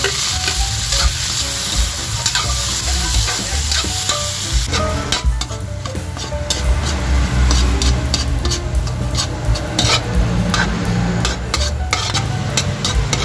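Loud, steady sizzling as onion, ginger and tomato are sautéed in a hot pan, with repeated scraping stirs of a utensil across the pan surface in the second half.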